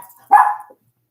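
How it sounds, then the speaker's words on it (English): A single nearby bark from a female pet dog named Pepper, indoors at home, one sharp harmonic burst rising and then cutting off into silence. "We have to let her out so she'll quit barking."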